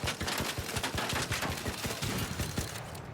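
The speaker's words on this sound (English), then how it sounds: "I'm gonna have to shoot this one like crazy, dude." Rapid sustained gunfire in the video game ARC Raiders, shooting at a comet, a dense stream of loud rhythmic shots continuing for several seconds before cutting off.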